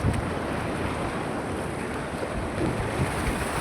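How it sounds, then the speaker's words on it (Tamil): Fast-flowing stream water near a village rushes steadily in a loud, unbroken roar, close by and alone with no talk. "தண்ணி வேகம் வந்துட்டு."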